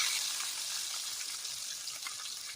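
Onions and green chillies fry in hot oil for an egg Maggi dish, producing a soft, even sizzle that holds steady and fades slightly toward the end, with no talking.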